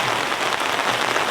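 Heavy rain pours onto a big camping tent's awning, a thick continuous patter and hiss that stays loud and unbroken throughout.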